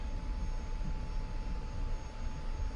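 An F-86F Sabre jet in a flight video game taxis slowly on the ground, its engine producing a steady, continuous broadband roar with a faint whine held at an even level throughout.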